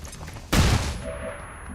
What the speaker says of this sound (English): so I'm just gonna flashbang that spot again